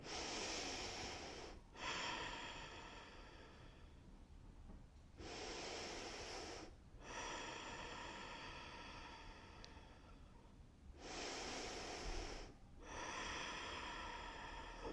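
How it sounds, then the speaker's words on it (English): During a yoga stretch, someone takes three slow, deep breaths close to the microphone, each a long airy inhale and exhale separated by brief pauses. "3 deep breaths here"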